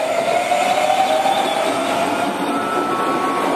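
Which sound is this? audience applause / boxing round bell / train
train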